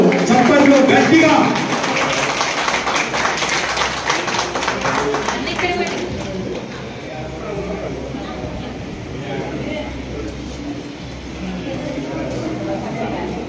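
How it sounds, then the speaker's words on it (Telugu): Loud applause breaks out at an Arya Vysya Sabha honouring ceremony for a mandal president. Dense, close clapping is strongest at the start and thins gradually over the following seconds, with voices mixed into the crowd noise. "కంటాల ధ్వనులు చప్పట్లు గట్టిగా"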